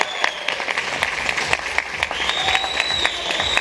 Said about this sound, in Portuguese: uma forte salva de palmas para a categoria